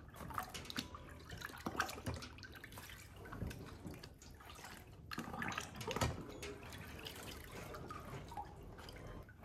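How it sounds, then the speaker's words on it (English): A Dellorto DRLA 40 carburetor part, scrubbed after a muriatic acid bath, is dipped and swished in water, giving steady close splashing and dripping throughout with a few louder sloshes. "And let's dip it in the water after a little scrubbing."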